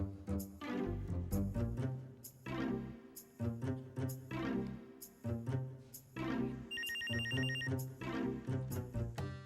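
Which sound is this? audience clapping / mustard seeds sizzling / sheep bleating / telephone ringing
telephone ringing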